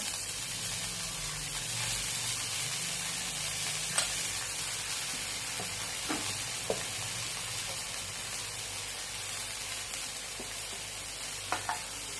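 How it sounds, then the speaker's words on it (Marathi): Chopped coriander going into a sautéed mixture in a pan while making crispy coriander vadi: a steady, gentle sizzle with soft stirring and a few faint clicks of a spoon, continuous and fairly quiet. "हे आपलं परतून झालेलं आहे यामध्ये आपण कोथिंबीर टाकून घेऊया"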